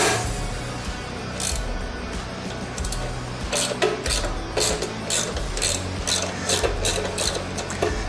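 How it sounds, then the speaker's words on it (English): A ratchet loosens fender bolts on a 2022 Harley-Davidson Road Glide ST motorcycle, giving close, rhythmic clicking strokes in quick repeated bursts over a steady mechanical background hum. "we're gonna take out these fender bolts and you just get whichever tool you prefer to get it loose"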